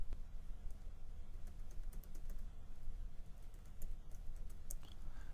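Typing a website address on a computer keyboard: a close, quiet scatter of light key clicks at an uneven pace, with no voices.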